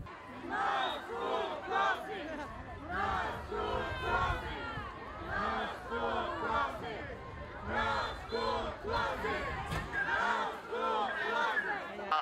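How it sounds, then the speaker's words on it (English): A large crowd of protesters chants and shouts in rhythmic bursts at a rally on a cold, windy night, voices rising and falling together with babble between the chants. "This huge crowd of people on a very cold and windy night marched down from their rally to the hearing"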